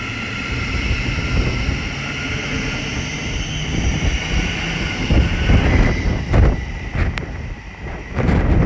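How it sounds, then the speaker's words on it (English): A Thameslink passenger train pulls out of a station on the East Coast Main Line at Biggleswade, a steady broad rumble that swells and holds with some wind buffeting on the microphone and a few sharp clicks near the end. "the Thameslink service from London King's Cross to Peterborough is now departing."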